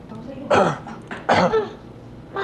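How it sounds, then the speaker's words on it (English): A feverish baby gives two or three short, harsh coughs in quick bursts, fairly close, with a quiet pause between them. "Have him cough."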